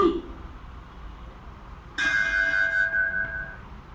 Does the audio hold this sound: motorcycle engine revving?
no